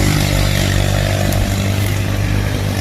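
A Jeep Wrangler's engine runs loud and close after being started remotely, a steady, rough idle rumble holding evenly throughout with no talk over it.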